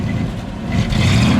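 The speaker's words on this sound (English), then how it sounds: "Steve, give it a rev." A 1953 Cadillac Eldorado convertible revs briefly, its close, loud engine swelling from a low rumble into a stronger roar over about a second.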